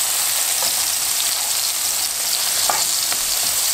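Breakfast food frying in a pan with a steady close sizzle, with a few soft scraping knocks as it is turned over.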